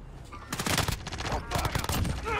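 A GRAU 5.56 rifle fires in Warzone, two rapid bursts of sharp, close, loud automatic shots, with a brief pause between them.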